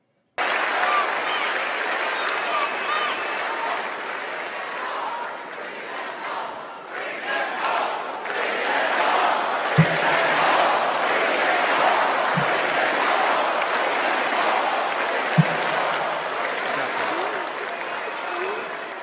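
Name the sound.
convention crowd applause and reception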